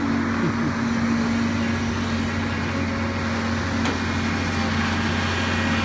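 A truck rumbles along at work among construction machinery, a steady loud engine drone with a constant low hum and rattle throughout, no talk.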